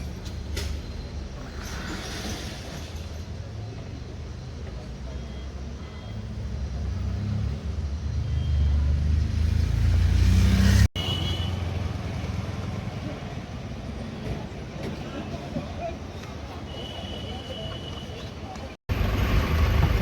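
Inside a shared taxi on the mountain road from Karnaprayag to Chamoli, a steady low engine and road rumble with rattling cabin noise, swelling louder midway, broken by two brief cuts.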